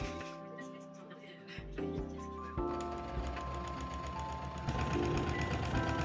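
Sewing machine stitching two pieces of furoshiki fabric together, a steady close mechanical whir with rapid rhythmic ticking that picks up speed partway through, and a voice talking over it.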